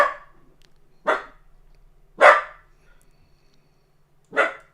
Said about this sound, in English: He's over here barking.